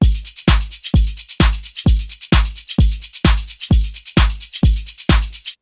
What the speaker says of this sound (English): I need a loop of like shakers loop and some different perks loop